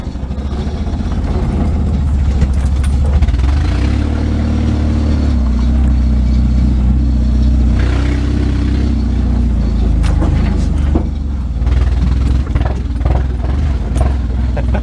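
A new mini truck engine runs rough and down on power through a broken muffler, a loud steady low rumble with uneven pulsing throughout and no voices.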